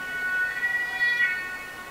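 A fire brigade or police siren in Germany sounds as a faint, steady high tone from some distance, with no voices over it.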